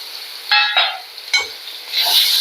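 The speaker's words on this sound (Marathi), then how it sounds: "आणि एक दोन ते तीन मिनटं परतून घेऊयात तेल सुटेपर्यंत" Onion, tomato and spices sauté in hot oil in a pan, a close, bright sizzle punctuated by a few quick stirring scrapes and bursts of frying.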